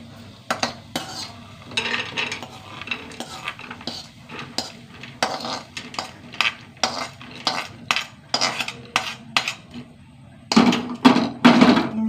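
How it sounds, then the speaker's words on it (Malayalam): A spoon scrapes and knocks against a pan while a curry base is sautéed and stirred, giving repeated rhythmic metallic clanks over a low sizzle, close and fairly loud, with a brief burst of faster clatter near the end. "നന്നായി വഴറ്റണം"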